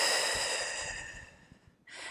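Deep, controlled breathing during a mat Pilates abdominal exercise, one long audible exhale fading out, then a short fresh breath at the end, close and alone.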